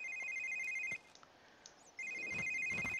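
An in-game phone rings in The Sims 3, with two bursts of a steady electronic ringtone separated by a near-silent pause of about a second and a few faint soft sounds in between.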